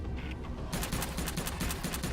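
Gunfire in the game Subterrain: after a brief lull, a rapid, even burst of repeated shots rattles on close and loud, with steady game ambience underneath.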